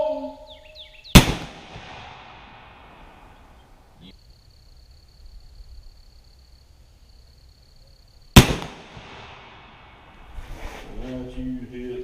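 Jukar .45 caliber Kentucky black powder rifle firing outdoors: two sharp, loud cracks several seconds apart, each trailing a short rumbling decay, with a faint steady tone between them and voices after the second shot.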